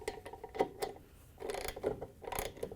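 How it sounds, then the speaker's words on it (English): A ratchet with a 19mm socket tightens a washing machine tub bolt, giving faint, close bursts of rapid metallic clicking in short strokes with brief pauses between them. "To tighten the bolt down, we're going to use our 19mm socket again."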